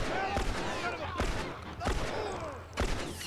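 Gunfire in The Last of Us: four sharp, widely spaced shots crack out at an uneven pace, each with a short ringing tail, while a person talks in between.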